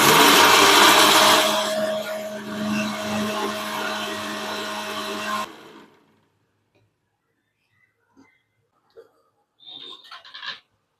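A mixer grinder whirs loudly for about five seconds while powdering roasted gram, then winds down and stops, followed by a few faint clinks and taps.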